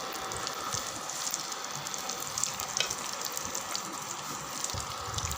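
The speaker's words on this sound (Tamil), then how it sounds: "இங்கே பாருங்கள், மீன் நல்லா வெந்துடுது" Thirukkai fish frying in oil in a pan gives a steady, close, bubbly sizzle that runs unbroken, with faint crackles and no voices over it.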